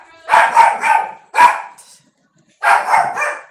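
A little puppy at home barks at someone at the front door in sharp, close bursts: a quick run of three barks, a lone bark, a pause, then another rapid volley.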